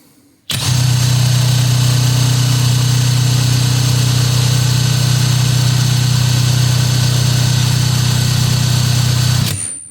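SHIDOKU SH G2 cordless 3/4-inch impact wrench running at its maximum fourth speed on a heavy socket, a loud, close, steady high-pitched motor whine that starts abruptly and holds for about nine seconds before cutting off.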